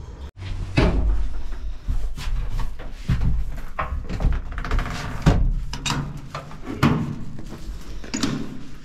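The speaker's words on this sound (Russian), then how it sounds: "Обязательно нужно закрывать двери." Doors of a tiny elevator in Rome are pulled shut by hand, producing a run of clattering knocks, sliding rattles and latch clicks, close and loud with no talk.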